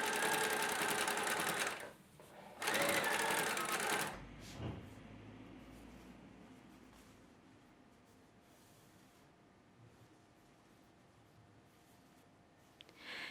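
A sewing machine stitches a dress lining in two loud, steady bursts of rapid mechanical whirring with a short pause between them, then stops, leaving only quiet handling noises.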